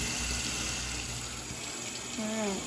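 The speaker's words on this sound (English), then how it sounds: "Let me go ahead and pour the water off." Water is poured off a pot of boiled potatoes in a home kitchen, giving a steady, close rushing splash that runs through the whole stretch, with a brief tonal squeak near the end.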